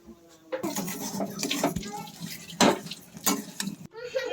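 Tamarind leaves are stirred in a kadhai for chutney, with repeated scraping and clinking of a spoon against the pan while someone talks over the stirring.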